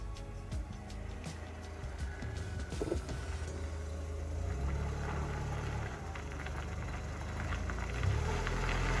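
A car with a three-speed automatic gearbox cruising at about 80 km/h, giving a steady low engine and road drone with some rattling knocks early on, moderately loud and continuous.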